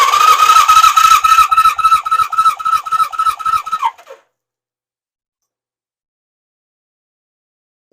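A 1977 Suzuki GS550 engine cranks over at full open throttle during a compression test, a loud, fast pulsing starter chug lasting about four seconds before cutting off into silence.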